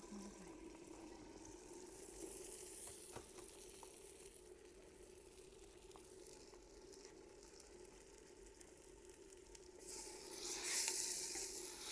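Okra tossed into a pan of sautéed onion, tomato and spice masala sizzles and fries steadily in a mud-house kitchen, a soft continuous hiss with a few stirring clicks, growing louder and brighter near the end.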